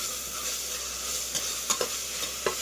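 Tomatoes sizzling in a pan for mushroom biryani, a steady bright hiss broken by several spatula scrapes and knocks in the second half, with no talking.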